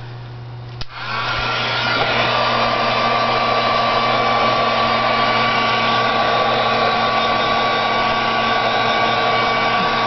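A heat tool dries stamped ink on a fall trifold card, its steady loud blowing hum starting after a brief click and running on, close and unbroken, with no voices.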